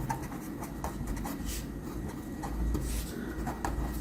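A pen scratches across paper in short, repeated strokes while working through a math solution, close and fairly quiet, with brief pauses between bursts of writing.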